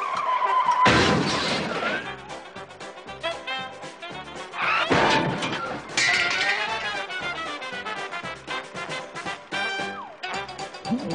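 Car crash in a driver's ed film about drunk driving: loud squealing skid and crashing impacts with shattering glass, two big bursts of crunching noise amid dense, busy sound throughout.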